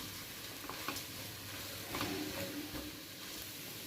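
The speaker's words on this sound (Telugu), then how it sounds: "ఒకసారి బాగా కలుపుకున్నాము" A spoon stirs uggani, a puffed rice dish with squeezed lemon juice, in a hot pan, giving a continuous soft sizzle with gentle scraping strokes throughout.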